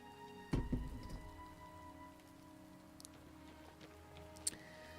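Soft, steady rain patters on surfaces in the video game Oblivion Remastered, faint and continuous with a thump near the start and a few light ticks.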